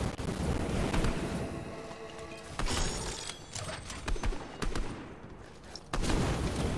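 Rapid bursts of gunfire from a gun in Fortnite, a video game, crack through a dense, busy mix of game noise, with sharp shots repeating irregularly and loudly.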